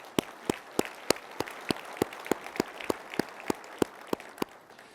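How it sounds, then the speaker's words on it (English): A conference audience at an engineering leaders' general session claps, sharp hand claps landing in an even, steady rhythm with a diffuse crowd wash between beats, no speech. "Let's give them a round of applause."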